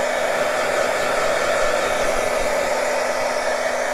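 A dryer blows steadily to dry paint on a gel print, a loud, continuous close-up whir with a faint hum and no pauses or speech.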